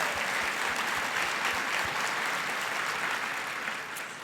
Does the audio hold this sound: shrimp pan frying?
no